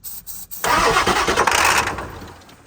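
A 1991 Ford F-350 with a swapped 7.3 Powerstroke diesel is started for the first time: two brief starter clicks, then the engine catches and roars loudly, settling into a rough, rattly idle.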